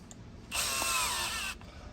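A cordless drill with a spent battery whines up loudly for about a second, then abruptly cuts out, leaving quiet background on either side.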